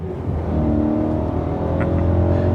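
BMW E92 M3 engine held at high revs, a loud steady mechanical drone with a slight rise and dip across the short stretch, heard alone without talk.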